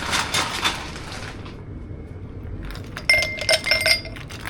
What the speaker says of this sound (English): You add another ice cubes.